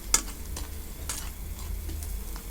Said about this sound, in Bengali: এখন ভালো করে সুন্দর করে এটা কষাতে হবে।